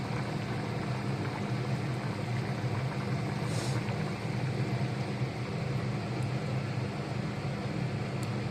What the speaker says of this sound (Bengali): দেখেছো কি সুন্দর টকবক টকবক টকবক টকবক ঘোড়ার মতো করে ফুটছে